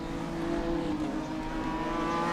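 Race cars at Road Atlanta during a SpeedTour race produce a steady, dense engine roar that holds at a constant level, heard alone without talk.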